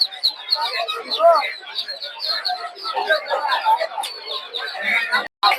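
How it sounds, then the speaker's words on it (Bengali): At a village poultry market, ducks of several breeds, including Chinese, Belgian and local ducks, quack and chatter alongside clucking chickens in a busy overlapping din, with voices in the background. "চীনা হাঁসও আছে এরকম"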